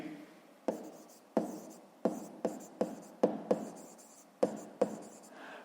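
Pen strokes on notebook paper while doing a fifth-grade maths exercise: a series of about nine short, sharp scratching bursts, each fading quickly, close and clear against a quiet room.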